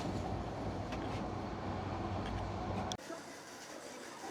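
Cox's Bazar Express passenger train running, a steady low rumble with faint rattling that drops abruptly to a quieter hum near the end, heard from a distance.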